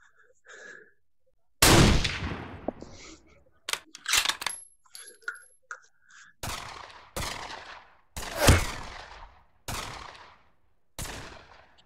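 Gunfire in a VR shooting game played with a rifle stock: a series of sharp, loud shots, mostly single and spaced a second or so apart, with brief quieter noises in the gaps.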